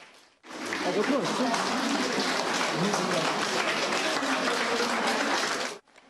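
Diners at Pyongyang's Daedonggang seafood restaurant rise in a standing ovation, their loud, dense applause swelling in abruptly and holding steady for about five seconds before cutting off, with voices faintly mixed in.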